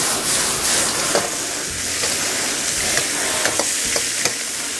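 Cured pork ribs with ginger and garlic fry in hot oil, a loud, steady sizzle and crackle with occasional stirring scrapes and small pops, close up and without talk.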